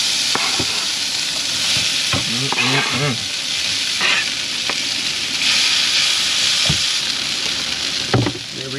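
Minced potatoes for hash browns fry in hot butter in a pan at a lakeside truck campsite. A steady, close sizzle runs throughout, broken by scraping stirs and occasional clunks.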